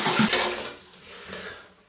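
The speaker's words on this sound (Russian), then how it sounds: "Выливаем в кастрюлю." Five litres of water pour from a container into a cooking pot while brine is prepared for salt pork, a loud splashing rush that tapers off after under a second into a quieter trickle.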